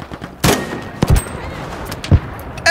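Gunfire in Battlefield V, three sharp loud shots spaced about a second apart, each with a short echoing tail, no talk over them.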